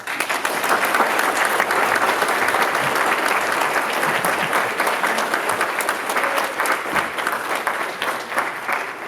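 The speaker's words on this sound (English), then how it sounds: "Give yourselves one more round of applause." Sustained, dense applause fills a naturalization ceremony courtroom, steady and loud from start to finish with only a slight taper near the end.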